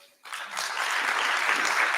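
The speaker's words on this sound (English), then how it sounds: "So round of applause." An audience at a live business event breaks into sustained, dense applause that starts abruptly and holds steady at full strength.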